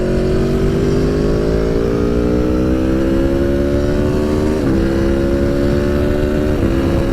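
An Aprilia V4 Tuono Factory motorcycle accelerates hard along a dual carriageway past a Volvo, its engine note climbing in a close, continuous drone over wind rush, with two brief dips as gears change.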